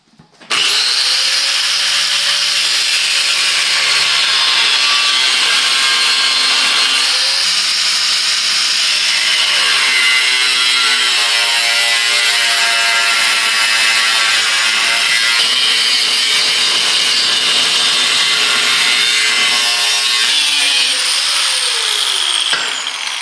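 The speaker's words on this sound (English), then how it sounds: "So I'm gonna grind that out a little bit, clean this up so I can get ready to weld it." A grinder works steadily on metal, clearancing room for a harmonic balancer during a Cummins engine mock-up in a square-body truck. The whine is loud, close and continuous for over twenty seconds, with a subtle shifting pitch as the disc bites and eases.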